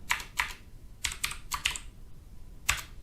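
Keys clacking on an RC2014 Z80 kit computer keyboard while a BASIC program is entered, a few sharp irregular bursts of keystrokes with short pauses, close and clear, no speech.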